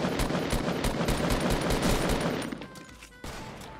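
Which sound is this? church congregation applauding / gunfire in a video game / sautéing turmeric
gunfire in a video game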